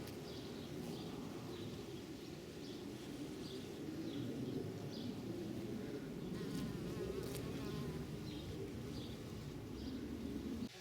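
Dense, continuous buzzing of many bees fills the air at close range, with faint bird calls in the background.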